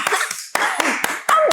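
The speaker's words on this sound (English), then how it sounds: "Clap for her!" An audience claps in sharp, separate strokes, about four evenly spaced hits over a second and a half, over a low murmur of background noise.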